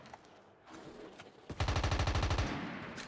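Rapid automatic gunfire in the Call of Duty Mobile shooter game: a dense, rhythmic burst of close shots lasting about a second, preceded by quieter scattered in-game sounds.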